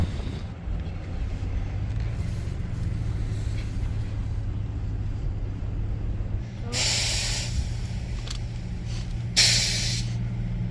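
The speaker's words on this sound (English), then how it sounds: "That's a semi truck. It's air brakes." A semi truck's air brakes let out two sharp hisses of escaping air over a low idling rumble, the second burst louder and closer.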